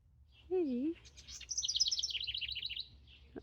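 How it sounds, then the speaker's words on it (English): A rapid, high-pitched trill of small bird chirps rings out close by, preceded by a brief short voice. "that's a pretty bird sound."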